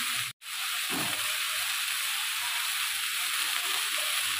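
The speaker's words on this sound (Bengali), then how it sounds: "এবার এটার মধ্যে আলু, বড়ি, মূলো, কুমড়ো সব ভাজা হবে।" Steady sizzle and hiss of potatoes, lentil dumplings, radish and pumpkin frying together in oil in a pan, broken by one brief gap near the start, close and continuous with no talking.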